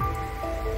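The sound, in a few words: heavy rain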